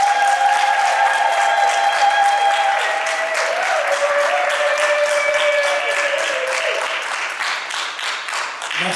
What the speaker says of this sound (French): Nous allons seulement acclamer le Seigneur pour exprimer notre joie.